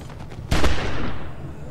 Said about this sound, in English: Kenny's gonna shoot her in the back of her head.